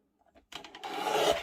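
Paper for a scrapbook layout is trimmed with a short rasping cut, a brief dry scrape that builds after a few faint taps and stops within about a second, close up and without talk.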